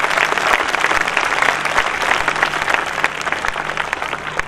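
A congregation at a Christian sermon applauds to thank God, steady dense clapping from a crowd of many hands filling the room, continuous and fairly loud without a break.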